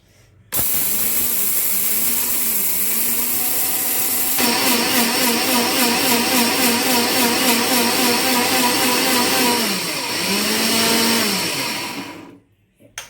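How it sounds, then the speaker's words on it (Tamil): A mixer grinder whirs loudly and steadily while grinding flour, its pitch wobbling and pulsing as the contents churn, then it winds down and stops. "மிக்ஸி மட்டும் நல்லா அரைக்கணும்னு பார்த்துக்கோங்க"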